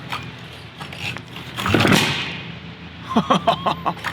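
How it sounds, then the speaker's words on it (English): A paramotor's pull-cord starter is yanked in a long rasping, janky pull, followed by a rapid series of clattering, sputtering knocks as the small engine, unused for months, tries to catch. "Pull starter sounds janky as hell."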